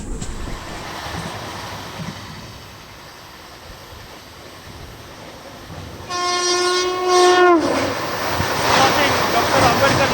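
The 11039 Maharashtra Express, a fast passenger train on its first run with LHB coaches, rumbles past loudly, and its horn sounds a sustained two-tone blast midway over the steady roar of the running coaches.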